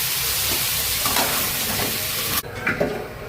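Crabs sizzle loudly in a hot pan as Goan-style crab curry is cooked, with a dense, continuous close hiss that drops sharply near the end into quieter frying with a few stirring clinks.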